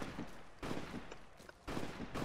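Gunfire in Fallout: New Vegas comes in three sharp bursts of shots, moderately loud, separated by short quieter gaps, with no talking.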